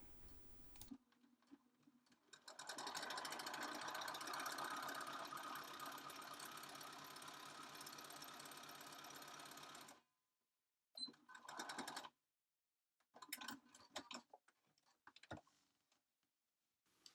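A domestic sewing machine stitches fabric in one long steady run of rapid mechanical whirring and clatter lasting several seconds, followed by short stop-start bursts of stitching and clicks, close and alone with no voices.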